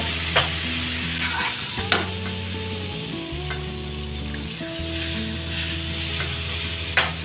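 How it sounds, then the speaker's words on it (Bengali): Besan and milk being stirred together in a pan for a barfi with semolina, a continuous close scraping and stirring over a steady sizzle, with occasional sharper clicks of the utensil. "ভালোভাবে দুধের সঙ্গে এটাকে মিশিয়ে নেব।"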